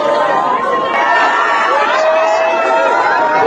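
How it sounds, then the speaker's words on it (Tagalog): A large crowd of school principals and teachers shouts and cheers at a political rally, a dense, steady roar of many voices close by with no break. "Ayan na ho. Sigawan."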